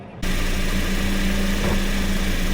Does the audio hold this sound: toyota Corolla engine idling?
yes